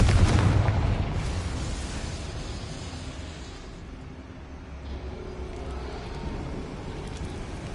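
A Confringo fire spell explodes in Hogwarts Legacy, a loud booming blast at the start that rumbles and slowly fades into a low lingering roar.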